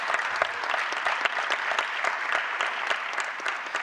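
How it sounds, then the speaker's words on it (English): An audience at a plenary session claps for a head of state, moderate and even applause with distinct individual claps audible through the steady patter. "Now, that sounds like an applause, yes, whatever."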